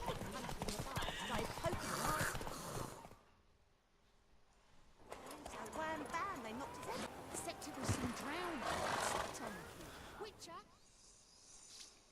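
Hooves of Roach, the horse in The Witcher 3 set around White Orchard, clip-clop steadily under voiced dialogue, with a short quiet gap midway and a brief whinny-like sound.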